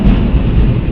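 Loud, close thunder from a nearby lightning strike: a deep, sustained rumble that fills the whole second with no voices.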